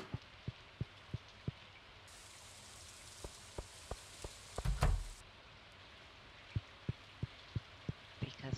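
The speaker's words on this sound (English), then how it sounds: "It's raining." Rain falling in the farming video game Stardew Valley, with soft steady patter under sharp, regularly spaced ticks and a brief louder thump in the middle.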